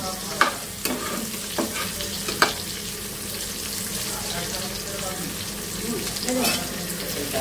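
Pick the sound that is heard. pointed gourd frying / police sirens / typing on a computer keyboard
pointed gourd frying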